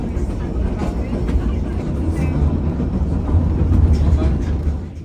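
A narrow-gauge White Pass and Yukon Railroad train running on its 36-inch-gauge rails near Skagway, Alaska: a continuous low rumble and clatter of wheels, steady and close, growing slightly louder toward the end.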